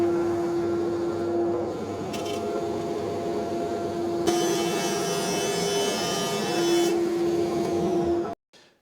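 A thickness planer machining oak timber in a workshop: a loud, sustained motor whine with a steady tonal hum, cutting noise rising and falling as boards feed through, then the machine cuts off abruptly near the end.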